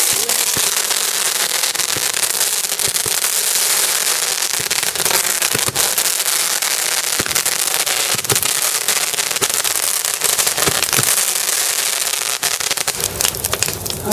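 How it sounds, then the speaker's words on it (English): Fireworks rockets going off at a bonfire party: a continuous dense crackle and hiss of bursts with scattered sharper pops, loud and sustained throughout, no clear talking over it. "Get them rockets going."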